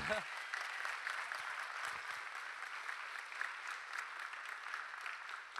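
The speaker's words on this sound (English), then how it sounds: "So let's give them a round of applause." A room of retreat attendees applauds the volunteers, a dense, even clapping sustained throughout at moderate volume, with no voices over it.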